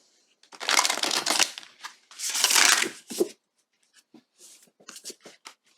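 A tarot deck is shuffled by hand in two loud riffling bursts, followed by softer, scattered card taps and slides; the sound is close and there is no talk over it.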